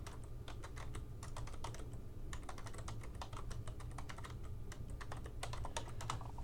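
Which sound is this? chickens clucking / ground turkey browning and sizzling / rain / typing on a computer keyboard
typing on a computer keyboard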